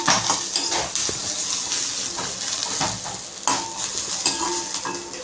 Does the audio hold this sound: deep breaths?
no